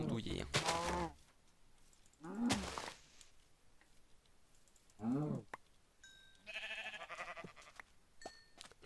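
Minecraft sheep bleat in several separate wavering calls spread across the stretch, with quiet game clicks and soft tones between them and no speech.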